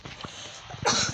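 A single sharp, breathy sneeze bursts out near the end, loud and close, after a stretch of quieter background sound during a Brawl Stars 1 vs 1 game session.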